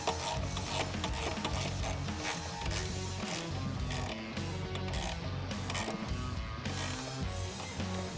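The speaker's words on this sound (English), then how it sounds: "I'm going to switch over to a ratchet over here and then tighten that up with that same" A hand ratchet with a 10mm socket tightens a heat shield bolt on a Jeep Wrangler JL during a cold air intake install, giving a fast, continuous run of close, loud clicking throughout.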